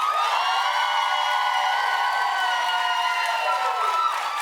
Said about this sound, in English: Clap if you think it ought to be Dwayne.